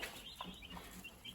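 Meat bird chickens in a new brooder give off soft, scattered clucks and chirps, quiet and close, over a steady background hiss.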